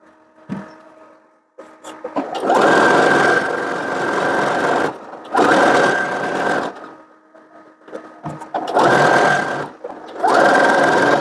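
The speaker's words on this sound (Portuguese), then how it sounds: "Vamos lá na máquina passar a costura." Sewing machine running in several bursts, stitching a folded 1 cm hem on a lined child's dress; steady loud motor whir in four long runs separated by brief pauses, with no voices.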